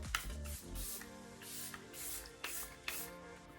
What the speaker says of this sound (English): Airbrush setting spray